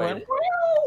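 A single short, rising-then-falling cat meow, heard up close right after a brief bit of speech.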